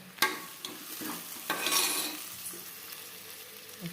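Tomato sizzles in a pan for methi dal while a utensil stirs it, giving soft scraping strokes and a few clinks over a quiet, steady fry.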